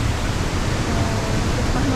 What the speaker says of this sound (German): Aber ein schöner Wasserfall.